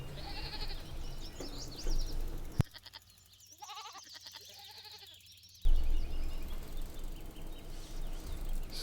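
Goats bleat in the Farming Simulator 22 video game, several wavering, nasal calls rising over the game's ambient farm sounds, with a sudden drop to near quiet midway before the noise returns.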